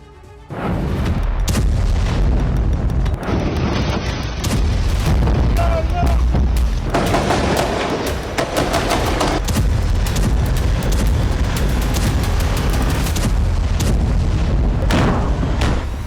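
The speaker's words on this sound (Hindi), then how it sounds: "धमाकों की आवाज" Heavy booms and bursts of gunfire fill ground fighting in the Jenin camp, loud and continuous with dense crackling shots and deep blasts over roughly sixteen seconds.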